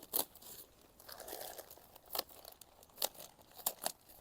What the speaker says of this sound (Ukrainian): Трішечки позапихую той пакет з усіх боків.